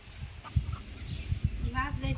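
Chickens clucking after being let out of their coop in a rural Bangladeshi village yard after rain, with short intermittent calls rising over low outdoor rumble and thumps, a few higher squawks near the end.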